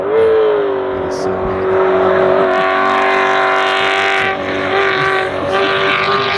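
Race car engine on a track, a loud, continuous high-revving drone with a layered harmonic whine that holds steady and shifts slightly in pitch, close and dominant throughout.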